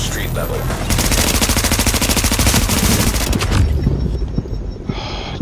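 Rapid automatic gunfire rattles loudly in The Division video game, a dense burst of evenly spaced shots lasting several seconds before trailing into scattered, fainter reports.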